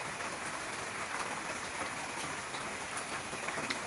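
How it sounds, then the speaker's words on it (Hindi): Steady rain falls in a forest, a dense, even hiss of drops on leaves and ground that holds at a constant level throughout, with no voices. "बाहर बारिश हो रही थी"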